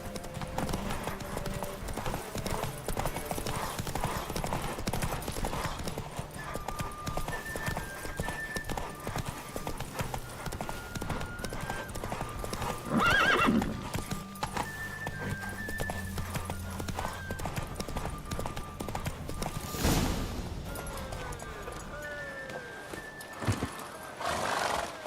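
A horse gallops in The Witcher 3 video game, a steady fast clip-clop of hooves running throughout, with a brief whinny in the middle. Game music and ambience sit underneath, and there is no speech.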